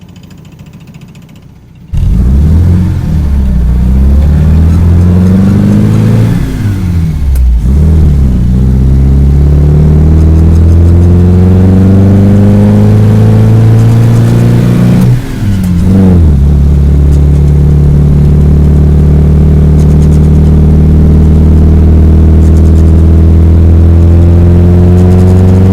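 A 1950s Austin A55 Cambridge MK1 starts up loudly and accelerates hard, its mid-pitched engine note rising through each gear, with brief dips at the shifts before climbing again, close and continuous throughout.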